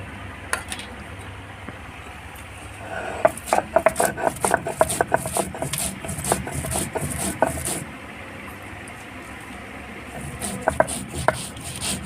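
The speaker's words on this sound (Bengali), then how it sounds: "ধনে জিরে কাঁচা লঙ্কা শুকনো লঙ্কা একসঙ্গে বেটে নেবো" Coriander, cumin, green chillies and dried chillies are ground together on a stone, giving a close, steady run of rhythmic rubbing and scraping strokes with short pauses.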